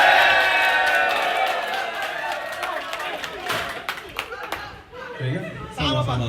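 Crowd at the BOC Makassar Welkom 2026 grand final claps and cheers for Bro Tesar with loud, dense applause and chatter that thins out, then swells briefly again near the end.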